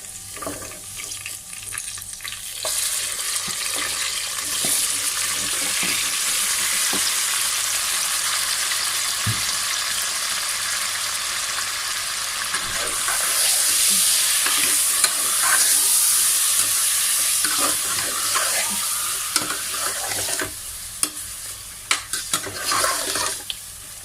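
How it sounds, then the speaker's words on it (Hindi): Chicken pieces frying in a pan for Pakistani chicken biryani, a steady loud sizzle running throughout with repeated scraping and stirring strokes and occasional sharp clinks of the spoon against the pot near the end. "चिकन को आपने 4 से 5 मिनट के लिए अच्छे से आपने फ्राई करना है"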